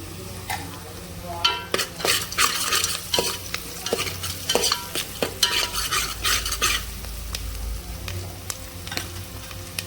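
Seasoning seeds fry in hot oil in a pan for okra curry, a close, loud crackling sizzle broken by repeated scraping stirs and spoon clicks against the pan.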